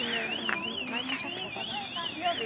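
A store alarm wails in a continuous rising-and-falling electronic siren outside a Goodwill outlet bins store, steady and moderately loud, while people talk over it.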